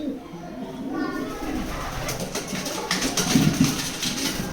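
Pigeons, one white and one grey, coo softly nearby while wings flutter and scuffle as they fight, pecking with beaks, a person talking over the birds throughout.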